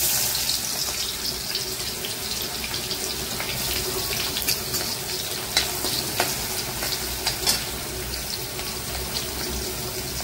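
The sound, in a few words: onion frying in tempering for sev bhaji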